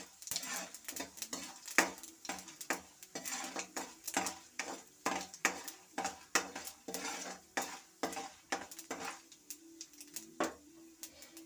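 Urad dal and green chillies being stirred and fried in a pan for instant semiya idli, a steady run of sharp spoon scrapes and clinks against the pan at close range over a soft sizzle, with no talking.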